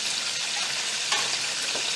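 Chicken wings fry in hot oil, giving a continuous close sizzle and crackle with a brief louder pop partway through and no talking.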